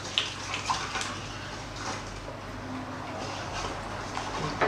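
Milk and water are poured into a bowl of yeast and sugar for pizza dough, giving a soft continuous splashing trickle with a few light clinks, heard up close in a kitchen.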